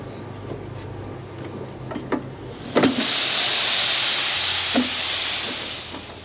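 Steam hissing from a laundry press in a prison laundry, a broad rushing hiss swelling up after a few scattered clicks and knocks and continuing steadily at close range.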